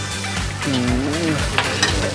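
Hoi tod, a fried mussel pancake, sizzles steadily in a large pan at a Monday evening market stall in Kui Buri, Thailand, with a voice speaking briefly over the close, hissing fry.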